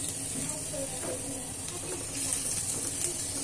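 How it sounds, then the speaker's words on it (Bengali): Chopped garlic browning in a small amount of hot oil gives a soft, steady sizzling hiss that runs unbroken, fairly quiet, with no voices over it. "তেল দিয়ে নিয়েছি, এখানে আমি সামান্য পরিমাণে রসুন কুচি দিয়ে একটু ব্রাউন করে নেব।"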